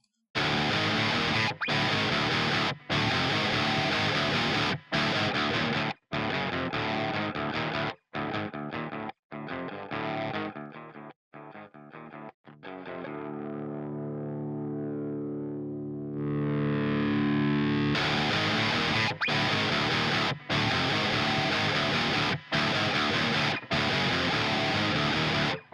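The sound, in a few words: guitar track through Toneforge Menace overdrive pedal distortion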